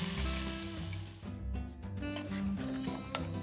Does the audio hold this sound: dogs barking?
no